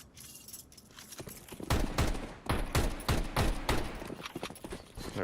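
Pistol fire from Tech-9s and MAC-10s in a Counter-Strike match, a rapid series of sharp sharp cracks in quick bursts amid game background noise, growing louder after a quiet start.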